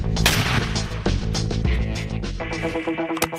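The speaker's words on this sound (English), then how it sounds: "The coolest thing about the M32 is 6 rounds of 40 mic in 3 seconds" An M32 40 mm multi-shot grenade launcher fires a rapid string of heavy, booming rounds. The blasts are loud and close, with several thumping reports in quick succession and a final sharp crack.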